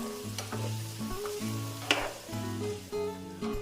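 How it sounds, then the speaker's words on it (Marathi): Chopped vegetables sizzling in hot oil in a pan for a traditional Maharashtrian Bhogi vegetable dish, with steady close frying hiss and intermittent scraping and stirring clatter of a spoon. "भाज्या आपण आता व्यवस्थित मिक्स करून घेऊया"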